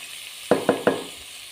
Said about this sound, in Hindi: लहसुन डालते हैं।